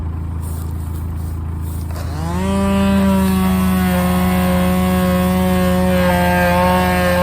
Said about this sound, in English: needs to sand down all the damaged paintwork from the summer cruising